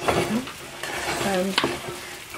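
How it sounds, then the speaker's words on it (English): Bully beef and white rice with ketchup stir-frying in a pan, a steady close sizzle with scraping stir strokes and a few clinks of a utensil against the pan throughout. "It's still stir fry. So bully beef stir rice."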